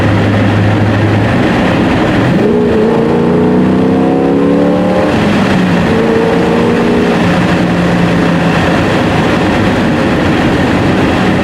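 A Porsche 944 with a swapped-in LS V8 and full-size rear muffler revs up and accelerates with a deep, throaty exhaust note that rises in pitch, then settles into a steady rumble.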